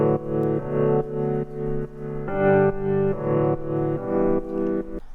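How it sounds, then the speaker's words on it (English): Felted piano plays soft, muffled chords in a slow repeating pattern, close and warm with gentle sustained notes and no voices. "the first instrument here is basically just a felted piano"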